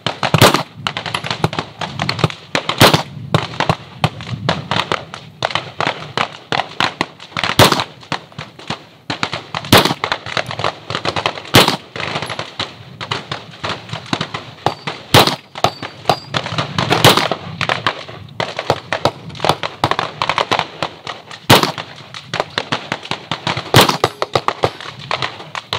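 Gunshots crack sharply and loudly throughout a shooting drill, spaced irregularly at roughly one- to two-second intervals, with a continuous background of outdoor range noise.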